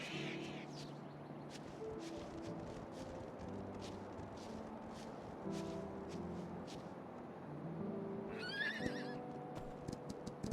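Horse whinnies and clip-clopping hooves in the video game Myth of Empires, with a louder neigh late on over a steady layer of game ambience and scattered hoof taps.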